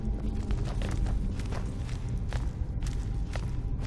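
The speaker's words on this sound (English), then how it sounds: "I hear footsteps." Footsteps sound inside a tomb in Skyrim, a steady run of soft thuds moving at walking pace over a dense low rumble of game ambience.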